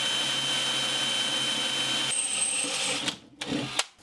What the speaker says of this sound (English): get your drill and drill your hole exactly where you want your rivet to go